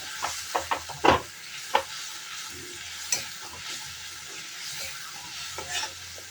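Chhana kofta masala stirred and frying in a pan, a steady low sizzle broken by several sharp scraping stirs and clinks of the spoon, close and alone with no talking.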